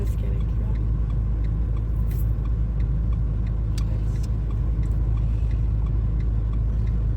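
Car on the Kağıthane driving test course easing forward off the brake, a steady low engine and road rumble with faint higher clicks, continuous throughout, with speech now and then over it.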